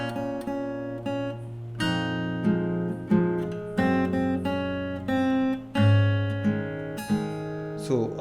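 Fingerstyle acoustic guitar picks the opening of a song, sustained bass notes under a plucked melody in steady phrases that ring out close and clear, with no voice over it.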